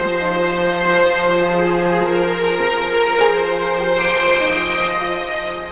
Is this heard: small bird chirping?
no